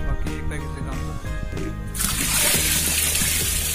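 Hot water pours into the tub of an LG top-load washing machine during tub cleaning, a steady loud rushing splash that swells halfway through, with a voice speaking over the start.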